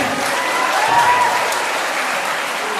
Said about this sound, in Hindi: तो मैं चाहता हूँ कि सर लोग पहले फिर से जोरदार से ताली बजाएं।